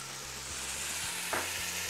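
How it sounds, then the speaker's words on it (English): Vegetables browning in a pan with Kentucky bourbon added, giving a steady low sizzle and frying hiss throughout, with a brief brighter splash of sizzle near the end and a faint background hum. "The last thing you're going to add while you're browning your vegetables is the centerpiece of this dish, the Kentucky bourbon."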